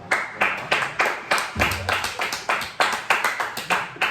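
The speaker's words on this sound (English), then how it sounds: "So you deserve a round of applause, man." A few people clap in a steady, fairly quick rhythm in a small room during a podcast recording, sharp close claps repeating evenly for several seconds.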